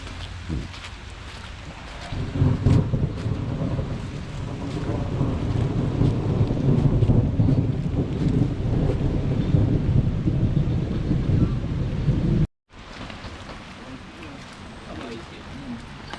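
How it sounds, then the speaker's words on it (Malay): Heavy rain pours steadily on a campsite at dusk while thunder rumbles low and long, loud and close, before a brief cut and more steady downpour. "Kena layan suasana hujan di senja hari."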